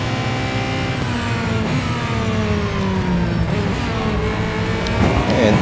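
Race cars in the Real Racing 3 endurance cup at the Red Bull Ring roar continuously, with engines rising and falling in pitch as several cars run close together and pass, loud and steady throughout.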